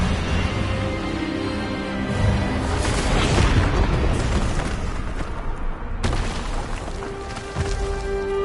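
A heavy spell blast from a wizard duel in Hogwarts Legacy: a long, loud booming roar that swells and rumbles for several seconds, then cuts off sharply into a quieter sustained tone.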